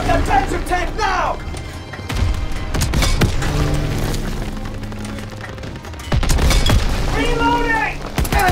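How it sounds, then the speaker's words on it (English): A German Panzer tank is destroyed in the World War II shooter Call of Duty: WWII, with heavy booms and bursts of gunfire over constant battle noise. Game voices speak throughout. "Enemy tank destroyed."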